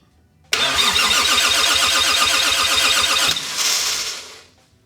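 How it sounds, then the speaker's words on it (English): The starter motor of a Toyota Supra MK3 with a single-turbo 2JZ engine and its ECU unplugged cranks loudly and rhythmically for about three seconds without the engine firing, then winds down. "It at least cranks over. It's not gonna start, of course, the ECU and nothing's hooked up, but it's cranking over."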